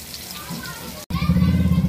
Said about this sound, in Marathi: तेल चांगलं गरम झालं की त्याच्यामध्ये आपण लसूण ठेचून टाकायचा आहे।